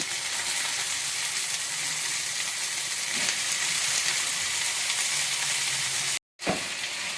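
Steady loud sizzling of potato and yam pieces frying in hot tempering oil, a continuous crackling hiss with a brief cutoff near the end.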